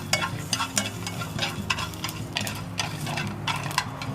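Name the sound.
stirring herbs, ginger and onion frying in a pot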